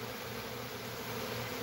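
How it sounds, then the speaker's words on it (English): A cloud of bees swarming around a sugar feeder during a dearth, giving a faint, continuous droning buzz with a steady hum and no talking. "there's a cloud of bees moving back and forth"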